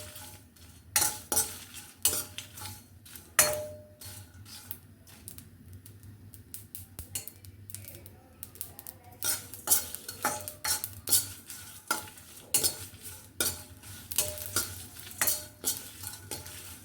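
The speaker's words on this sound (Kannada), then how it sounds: "ಇದೆಲ್ಲ ಸ್ವಲ್ಪ ಉರಿನಿ ಡ್ರೈ ರೋಸ್ಟ್ ಮಾಡ್ಕೊಳ್ಳೋಣ." Avare lentils dry-roasting in a pan on a low flame, with frequent sharp scraping and clinking of a spoon against the pan and faint crackling between strokes, close and uneven in rhythm.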